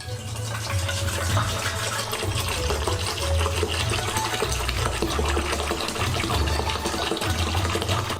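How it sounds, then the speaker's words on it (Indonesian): Soy sauce poured into a bucket to make a marinade for a large tonkotsu miso ramen, a continuous gushing, splashing pour that runs steadily for several seconds, close and fairly loud. "Dalam ember yang sama, kita buat rendaman, tuang kecapnya"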